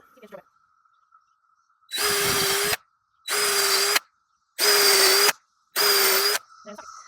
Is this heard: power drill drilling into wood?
yes